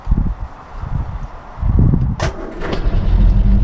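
A Rover P4 on a warm day, choke pulled out, cranks with a few rough bursts, then the engine catches and settles into a loud, steady close-up idle with a brief clatter.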